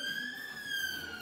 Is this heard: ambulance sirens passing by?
yes